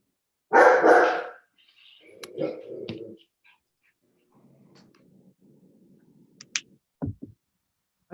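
A big dog barks loudly, a sharp burst of barks up close, followed by quieter scuffling and a few faint yips and clicks against a mostly quiet room.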